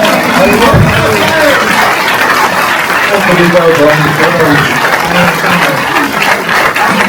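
Loud audience applause at a Christmas show by a municipal music band in Galicia, greeting a musician. Steady clapping mixed with cheering, crowd chatter and shouted voices runs through the whole stretch.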